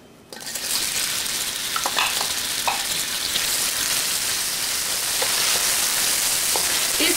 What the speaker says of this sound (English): We're going to cook the onion for 1 minute until the onion is slightly soft.